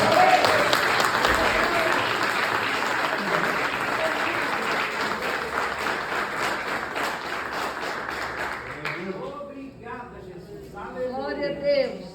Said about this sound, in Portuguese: Salve de palmas, Senhor Jesus.